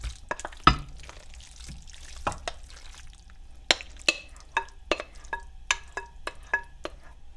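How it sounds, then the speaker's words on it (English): A heavy food mixture for a three-meat vegetable dump casserole slides and thuds from a bowl into a casserole dish, giving a burst of scraping and plopping followed by a string of sharp, close utensil taps and knocks. "I'm going to dump my entire contents of my bowl"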